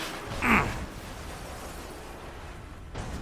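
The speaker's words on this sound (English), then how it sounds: "I got wrecked by a guy on a motorcycle" A Super Mini car is wrecked by a motorcycle in the racing video game MotorStorm Apocalypse, giving a single short crunching burst, followed by a low, steady rumble of game ambience.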